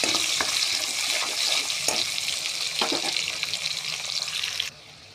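Chopped onions sizzle steadily in hot oil while being stirred for a chicken curry, with occasional scraping knocks from the utensil, then the sizzle drops off abruptly near the end.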